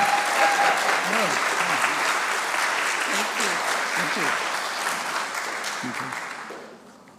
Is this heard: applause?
yes